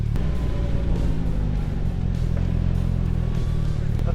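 The four-cylinder engine of a Polaris Slingshot SL on a test ride hums steadily and low, with a constant rumble that carries wind noise. Faint voices talk over it.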